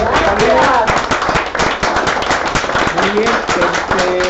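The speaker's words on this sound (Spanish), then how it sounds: "Vamos a darle un aplauso a los compañeros" At a 1968 commemoration event in Mexico, attendees break into clapping, uneven bursts of handclaps that rise and fall, mixed with voices and shouts in the crowd.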